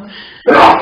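A single sudden sneeze bursts out near the mic after a stretch of quieter low background sound, sharp and fairly loud.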